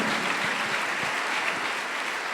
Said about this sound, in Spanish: Dale un aplauso a la gracia de Dios.